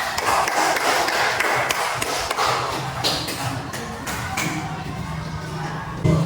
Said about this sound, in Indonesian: Silakan untuk kembali diberikan tepuk tangan.